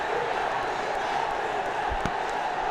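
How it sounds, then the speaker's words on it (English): Stadium crowd at a Bangladesh Premier League T20 cricket match cheering after a six, heard as a steady, broad roar of many voices with a brief thump in the middle. "And the crowds are back."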